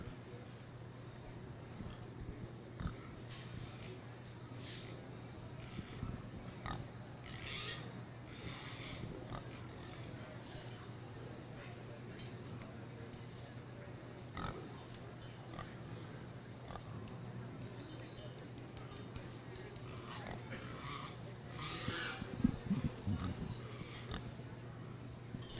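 Pigs at a junior gilt livestock show grunt and oink intermittently in a holding area, faint and scattered over a steady hum of arena background noise, with occasional hoof and movement sounds.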